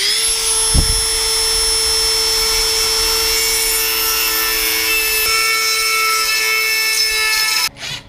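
A power tool grinds steadily to widen the bolt holes in the rear valance of a 1966 Mustang, with a loud, sustained high-pitched whine that runs almost unbroken before it cuts off near the end.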